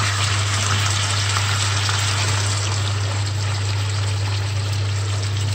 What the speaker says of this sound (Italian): ci andrò a mettere anche un pochino di acqua calda così non fermiamo la cottura.